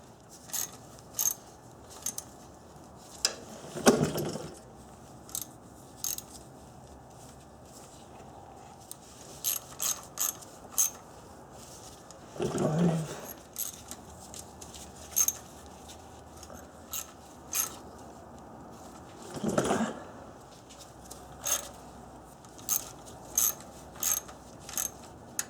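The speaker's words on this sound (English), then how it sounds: "when you tighten up these bolts, again, you want to go in a crisscross fashion" Hand tools tighten oil pan gasket bolts in a crisscross pattern, giving repeated close ratchet clicks and metallic clinks with a few longer grinding turns, sporadic and uneven, with no talking.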